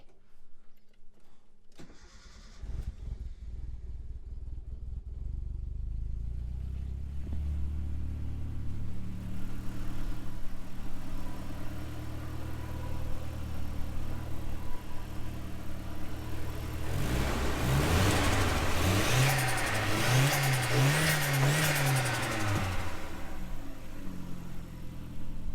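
A cold-started Nissan S13 with a CA18DET engine cranks briefly, catches and settles into a rough, steady idle. Later it gives a few sharp revs with a rising and falling roar before dropping back to idle, heard close.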